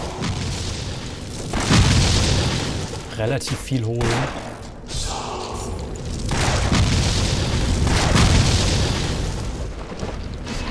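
Explosion shot blasts in the action RPG Torchlight during a spider fight in a crypt dungeon, rolling heavy booms that surge and fade in waves, with someone briefly speaking over the din midway.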